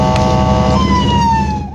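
Emergency ambulance siren wailing loud and close on a national highway, a steady sustained tone that shifts pitch partway through, with traffic rumble beneath.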